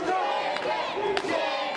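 Wrestling crowd at an RCW indoor event yelling and jeering at Dante, a dense, sustained roar of many voices with a couple of sharper shouts rising out of it.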